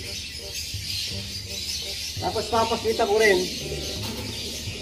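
Barless, off-color pigeons give soft, low coos in a loft. Someone talks over them nearby, and his voice mostly covers the calls.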